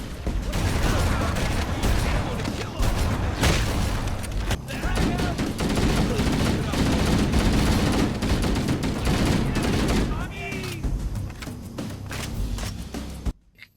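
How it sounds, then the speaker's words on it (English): Rapid bursts of gunfire in Halo: Combat Evolved rattle almost continuously, layered with shots, clanks and metallic effects, ending in a sudden cutoff. "From the sounds the guns make,"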